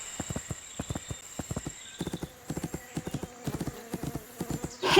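A horse galloping in the video game My Little Riding Champion, rapid rhythmic hoofbeats in quick grouped strikes over a steady bright background tone, ending with a louder burst.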